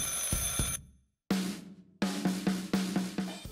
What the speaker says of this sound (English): Somewhere in the distance, a phone rings.